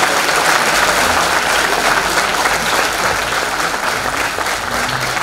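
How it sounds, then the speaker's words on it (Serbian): A crowd at a charity concert in Batočina claps in a dense, loud, continuous burst of applause that holds steady from start to finish. "Još jedan velik aplauz za Dacu,"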